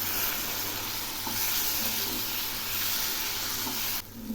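A spice mixture for Bengali aloo dum sizzles and hisses in the pan after water from rinsing the spice bowl is added, with steady frying noise and light stirring, continuous and close, fading quieter at the very end.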